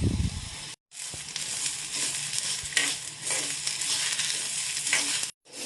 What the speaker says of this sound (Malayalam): ഇപ്പോൾ ചെറുപയർ വറക്കണം, നല്ലൊരു മണം വരുന്നുണ്ട്.